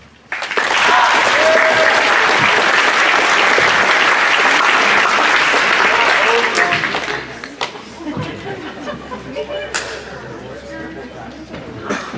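An audience at a high school awards day applauds graduating seniors, a dense loud burst of clapping that sustains for several seconds before thinning into scattered claps and murmuring chatter.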